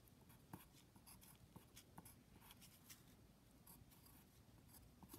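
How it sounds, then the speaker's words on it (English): Writing on paper during a map lesson, a quiet, close scratching of a pen in short irregular strokes, ending with a louder bump. "Put a little line and write"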